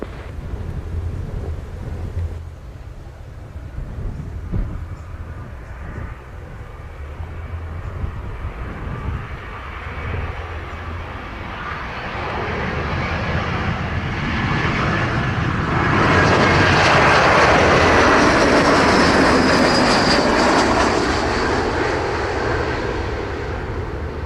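A passenger jet landing on runway 7 at Montego Bay airport in Jamaica, heard from out at sea: a broad engine roar that swells steadily louder toward the end as the aircraft passes close, with light wind buffeting.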